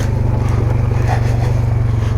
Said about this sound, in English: I love this engine braking